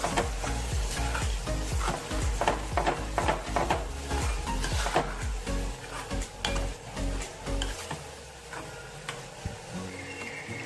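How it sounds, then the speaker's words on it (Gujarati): Red chilli chutney for a Kathiyawadi recipe, made with Kashmiri chilli powder, being mixed in a bowl with a spoon: steady, close scraping and stirring strokes in a quick irregular rhythm, fading to softer strokes near the end. "હવે બધું મિક્સ કરી લેવાનું। આવી રીતે એક રસ થઈ જાય ત્યાં સુધી મિક્સ કરવાનું।"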